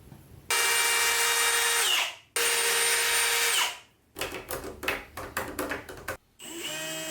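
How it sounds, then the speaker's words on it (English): A small Forstner bit bores lock holes in red oak with a power drill for a gun cabinet, two loud sustained whining runs followed by choppy bursts of cutting, close and alone. "For the lock holes, I ended up using a small Forstner bit."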